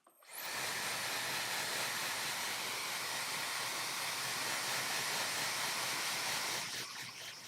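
A blow dryer switches on and runs as a loud, steady, close-up rushing hiss for several seconds before cutting off near the end.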